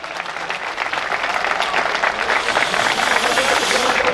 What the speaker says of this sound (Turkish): Onlara çok güçlü bir alkış istiyorum